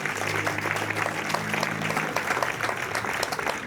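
Steady applause from an audience at an investiture ceremony for a literacy committee, continuous dense clapping with a low hum fading out midway.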